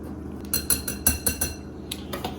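Baking powder and salt being mixed into flour in a bowl for drop-style dumplings: a quick series of clinking, scraping utensil strokes against the bowl, close and fairly steady, with no talking.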